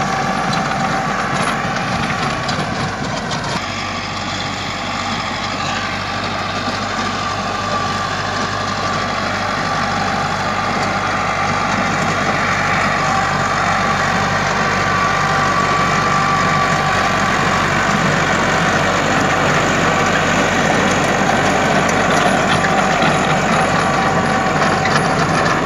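Massey Ferguson 385 tractor pulling a rotavator in a field, its diesel engine droning steadily and loudly close by for the whole stretch, with a constant low rumble and mechanical clatter.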